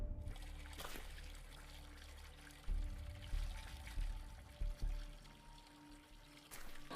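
Water pours from a hose into a barrel in a stealth video game, a soft, continuous trickle with faint splashes and a few low thumps, quiet and alone with no talking.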